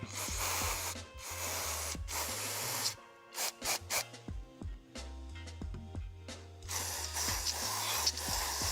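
Cleaner sprayed onto the MAF sensor of a Nissan 240sx, a series of close, hissing aerosol bursts, several short and some sustained, with clicking mechanical ticks between them and a steady low hum underneath.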